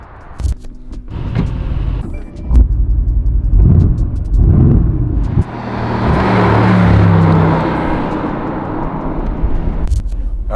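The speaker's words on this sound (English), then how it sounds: "We are going for a cruise right now in a 2018 Mercedes AMG GTR" A 2018 Mercedes AMG GTR out on a drive, its engine rumbling with short revving bursts and then a longer rising acceleration roar, close and loud inside the car, with some clicks and no talk.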